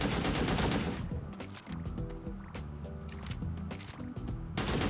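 Sniper rifle shots ring out in the Sausage Man battle royale game, several sharp loud cracks at the start and end with game music and effects between them.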